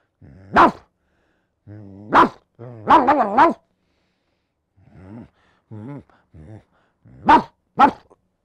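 A man imitates a dog with his voice, giving a series of short, loud bark-like yelps and a quick burst of several in a row, then softer growly sounds and two final sharp barks, alone in a quiet room.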